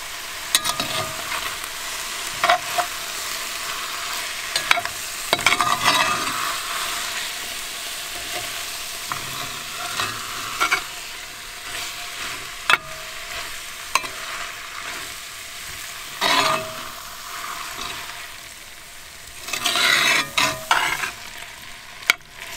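Thai red curry paste stirred into two cans of coconut milk in a pot inside a van, with soft continuous bubbling and gentle sizzle punctuated by scraping spoon strokes throughout, close and fairly quiet.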